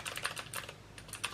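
Rapid clicky keystrokes from a Ducky One 2 Mini 60% keyboard fitted with Cherry MX Blue switches, about a dozen sharp clacks in quick uneven succession, close and alone.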